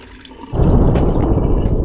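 In the horror game Nun Massacre, water is poured down a sink. It starts abruptly as a loud, close, steady rushing gush that keeps flowing without a break.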